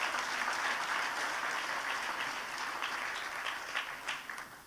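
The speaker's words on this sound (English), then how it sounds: "I think that deserves another round of applause." Seminar audience at an International Women's Day event breaks into steady applause, a broad, even wash of many clapping hands that holds for several seconds before starting to thin out, heard at a modest distance.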